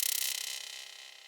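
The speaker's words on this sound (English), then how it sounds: "some cool little like glitchy effect sounds like this." Glitchy stuttering effect produced by a cyclic stretch mode applied to an audio sample in a drum and bass production, a rapid bright fluttering pulse that fades gradually over about a second, heard alone.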